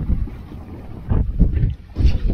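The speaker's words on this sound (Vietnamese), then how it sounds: "Ngoài biển này thì gió hơi ồn, anh em thông cảm nha" Strong wind buffets the microphone out at sea aboard a small boat heading to a blue lobster and grouper fishing spot, a low continuous rumble with gusty surges and no talking.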